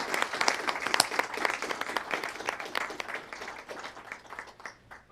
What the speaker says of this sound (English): please join me in a round of applause for our retiring hero, Buddy.